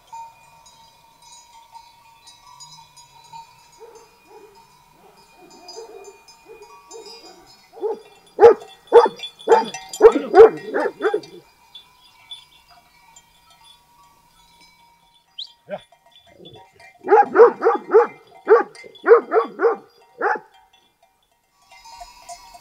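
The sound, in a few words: dogs barking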